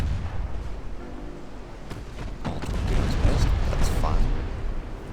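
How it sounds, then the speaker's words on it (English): Naval gunfire in Ultimate Admiral: Dreadnoughts as warships trade shots with big guns, deep booming salvos and rumbling blasts over a steady sea-battle din, growing heavier toward the end, with someone talking over it. "Trading fire with the bigger guns."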